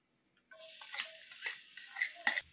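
Garlic drops into reused frying oil and sizzles, with intermittent utensil clinks and scraping stirs in the pan after a quiet start.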